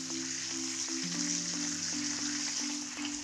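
Pears and red onion sizzle in a pan for braised pork chops, a steady, moderately loud frying hiss with a low background tone running underneath.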